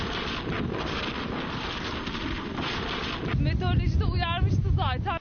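Strong storm wind in Ankara, Turkey roars and buffets the microphone continuously, and a person starts talking over the gusts near the end.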